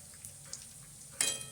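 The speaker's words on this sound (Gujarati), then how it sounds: "હવે એની અંદર બટેકા ઉમેરી દઈશું।" Potatoes tipped into a frying pan and stirred for Gujarati-style poha give a faint, soft sizzle with light scrapes, then a sudden louder crackling burst near the end.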